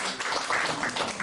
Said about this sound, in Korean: 나오실 때 박수로 격려해 주십시오.